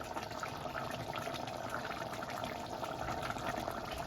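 A pot of bottle gourd tamarind curry bubbles and simmers steadily over a medium flame, a constant soft gurgling hiss with no voices and no pauses.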